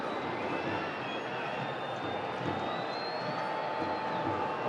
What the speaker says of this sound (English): Crowd will let him hear it.